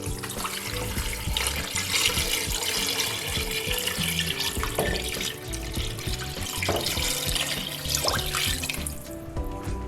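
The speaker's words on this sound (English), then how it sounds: "And then pour in my water." Water poured from a jug into a large stock pot holding chicken, a steady, full rushing splash that runs nearly unbroken for ten seconds, close and loud.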